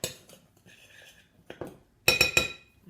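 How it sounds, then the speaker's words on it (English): Sugar and flour stirred together in a bowl for brownies, heard as scattered utensil scrapes and light clinks against the bowl, with a louder burst of clattering stirs near the end. "just give your sugar and flour a good old stir together"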